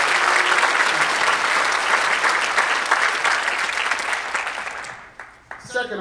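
A holiday band concert audience breaks into loud, sustained applause, a thick steady roar of clapping that tapers off near the end as a few louder claps stand out.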